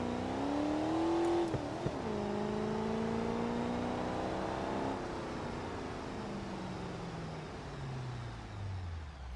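Small kei truck engine in BeamNG revving up through a long gear, pitch climbing steadily with a brief dip around a shift, then winding down and fading as the revs drop.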